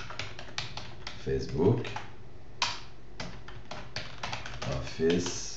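Fast, irregular keystrokes on a computer keyboard while editing an Excel spreadsheet, soft close clicks in quick runs with short pauses, under someone speaking French.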